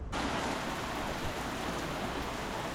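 Steady Florida rain pours down outdoors with a dense, even hiss that stays constant and fairly loud throughout, with no voices over it.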